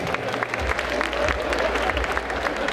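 Audience at a cosplay contest applauding loudly, a dense steady wash of clapping from a crowd throughout, with some low rumble underneath.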